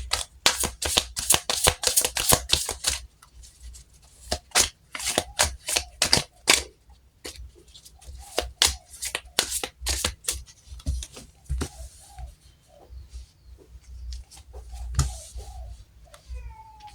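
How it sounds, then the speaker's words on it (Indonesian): Tarot cards shuffled by hand in a quick run of crisp riffles and flicks, sometimes dense and sometimes in sparse bursts, close by and with no one talking. "Kita langsung shuffle saja kartunya"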